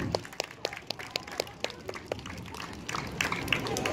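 Applause at an elementary school assembly: sparse, fairly regular claps in a steady beat that thicken into denser clapping near the end.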